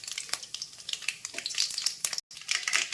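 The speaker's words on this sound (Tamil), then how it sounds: "கடுகு பொரியுது" Black mustard seeds crackle and pop in hot oil in a kadai, a dense run of sharp little bursts over a steady sizzle, close and fairly quiet, with a brief gap near the end.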